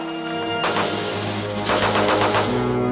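Gunfire from a U.S. M1 .30 caliber rifle, loud and close, with a sharp report followed by a rapid burst of shots and their ringing decay, no voices present.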